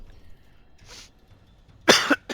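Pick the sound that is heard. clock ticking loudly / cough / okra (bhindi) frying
cough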